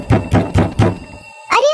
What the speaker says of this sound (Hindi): कोई दरवाजा खटखटाता है